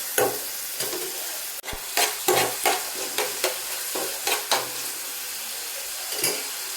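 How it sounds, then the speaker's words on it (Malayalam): Vegetables sautéing in hot oil for pasta, a steady close sizzle broken by repeated scraping stirs and occasional clinks of a utensil against the pan, with no talking. "ഇനി നമുക്ക് ചെറുതായിട്ടൊന്ന് വാട്ടി കൊടുക്കാം."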